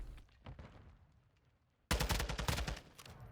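Rapid gunfire bursts in a Call of Duty esports match, faint and sparse at first, then a loud dense volley of shots crackling in quick succession.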